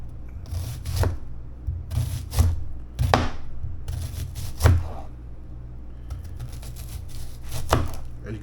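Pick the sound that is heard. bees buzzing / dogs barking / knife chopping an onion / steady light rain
knife chopping an onion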